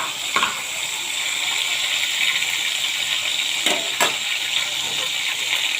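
Shrimp frying in a pan for a Bengali shrimp bhuna, a steady broad hiss of hot oil sizzling throughout, with a few brief clinks of utensil against pan.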